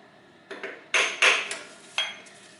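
A hammer taps a front-wheel-drive car's starter motor into position during clutch replacement: about five sharp metallic knocks, close and distinct, with brief ringing after each and quiet gaps between.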